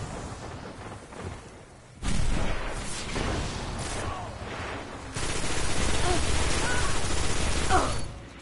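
Sustained video game gunfire comes in dense rapid bursts, building from a quieter stretch into loud continuous firing that runs through the latter half with faint voices in the background.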